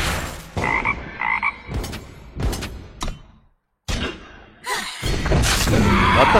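Frog croaks from a card video game ring out in short bursts amid thuds and game effects, with a brief silent gap before louder continuous game sound resumes.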